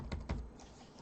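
Fingers tap a few keys on a Framework 16 DIY Edition laptop keyboard, two or three soft, close clicks in quick succession followed by quiet.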